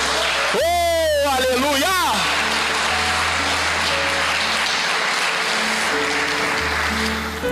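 Church congregation applause during a sermon rolls on steadily, loud and close, after a man's brief excited exclamation, with sustained low musical tones underneath.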